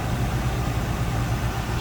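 The numbers-matching original engine of a 1978 Chevrolet Corvette Pace Car idles smoothly, a low steady rumble with faint vibration, close and unbroken with no voices.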